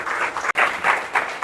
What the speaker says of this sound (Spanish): Yo te invito a que le demos un fuerte aplauso a Dios.